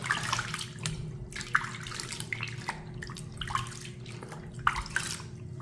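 Running water splashes and trickles steadily while herbal bath powder is rinsed off the skin, with uneven splashes and a faint steady hum underneath.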